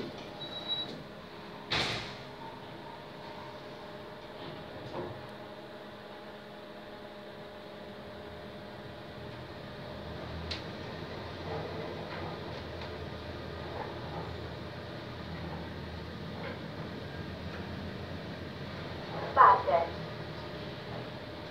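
A 2013 KONE MonoSpace MRL high-speed elevator in a Gdańsk building slides its doors with a short clunk, then rides with a steady low hum and faint whirring, ending in a brief chime and door motion.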